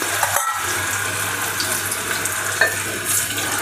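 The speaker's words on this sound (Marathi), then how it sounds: "नंतर आपल्याला तेलामध्ये चकली सोडून घ्यायची आहे" Pressed poha chakli made without bhajani flour goes into hot oil in a kadhai over a medium flame, giving a steady, close frying hiss and sizzle that runs throughout with a few small crackles.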